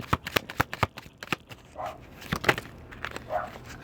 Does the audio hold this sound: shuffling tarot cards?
yes